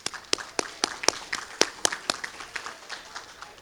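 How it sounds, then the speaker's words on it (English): Applause from a small press-conference audience at Columbia Metropolitan Airport, heard as sparse, irregular claps from a handful of people, fairly close and moderately loud, thinning out toward the end. "So let's give the team a round of applause."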